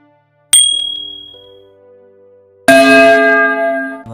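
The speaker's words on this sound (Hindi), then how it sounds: "और नोटिफिकेशन बेल को" A notification bell sound effect: a sharp bright ding that rings out and fades, followed by a second louder ringing bell tone that sustains to the end, with no speech.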